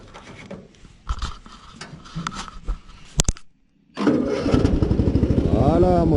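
A ride-on lawn mower engine is cranked with a few uneven sputters and clicks, falls silent, then catches and runs with a loud, steady rapid chugging close by while someone talks.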